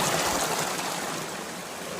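A creek in the Jemez Mountains flows steadily, its broad, even rush of water close by and unbroken for the whole stretch, with no voices.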